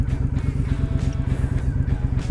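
A Harley-Davidson Road King motorcycle being ridden gives a loud, close, throbbing low engine rumble that pulses steadily throughout.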